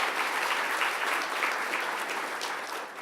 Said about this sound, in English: I hear some applause starting over there.